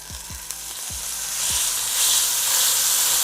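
Steak searing in hot oil in a pan gives a close, steady sizzle that swells louder partway through, with a few soft low thumps near the start.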